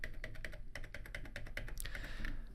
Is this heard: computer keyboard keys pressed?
yes